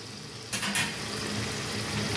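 Chicken sautéing in a pan for a Bangladeshi chui jhal chicken curry, cooking in its own released juices; a steady hiss of frying that rises sharply about halfway through, loud and close, with no voices.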